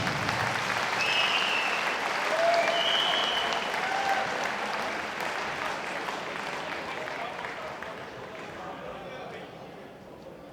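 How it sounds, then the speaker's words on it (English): A boxing hall crowd applauds both fighters after a bout at the Welsh amateur elite boxing finals, steady dense clapping with a few shouts and whistles over it, fading slightly toward the end. "big round of applause for both boxers, please."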